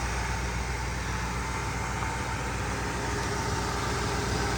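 A 1966 Oldsmobile Toronado engine runs at a steady idle, a continuous low rumble with even mechanical hum that holds level throughout, close by and alone without talk.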